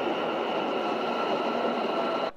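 Metro train carriages running through the Almaty subway, a continuous close rumble and rolling hum of the moving car that cuts off abruptly at the end.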